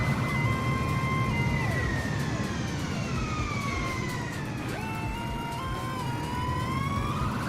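A wailing emergency siren in Microsoft Flight Simulator 2020, sweeping up and down in pitch continuously over steady engine-like rumble, loud and sustained throughout with no talking.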